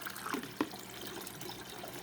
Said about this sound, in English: And I can rinse it off so the water flows better.